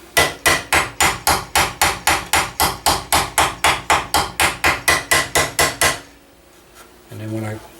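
Steady close hammer blows drive a metal fitting snug onto a gun's wooden stock at a gunsmith's bench: roughly twenty sharp, even strikes in a fast rhythm, followed by near silence and a faint brief sound.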